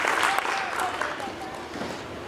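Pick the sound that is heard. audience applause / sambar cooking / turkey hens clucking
audience applause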